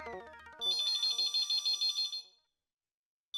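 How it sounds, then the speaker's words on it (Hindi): A shop telephone in a Hindi TV sitcom scene sounds an electronic ringtone: a quick series of bright, pulsing chirps lasting about two seconds, then silence, following a brief muffled noise. "फोन उठाऊं कि नहीं उठाऊं"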